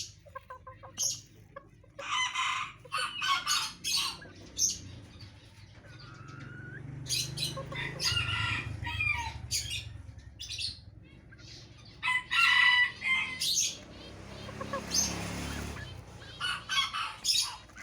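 Golden bantam chickens cluck in repeated bursts close by, with a rooster crowing partway through and small birds chirping around them.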